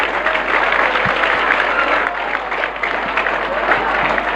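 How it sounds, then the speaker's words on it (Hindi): Students and teachers at a school event clap in a dense, sustained burst that fills the room, loud and close, with a faint murmur of voices underneath. "तालियां बजनी चाहिए।"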